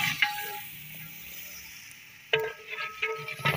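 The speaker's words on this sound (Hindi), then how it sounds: "प्याज और टमाटर पक रहे हैं।" Onions and tomatoes cook in a pot with a close sizzle. A faint hiss gives way to a sharper burst of frying and stirring scrapes partway through, and there is no talk.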